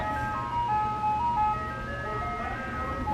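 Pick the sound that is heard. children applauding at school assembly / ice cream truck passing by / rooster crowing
ice cream truck passing by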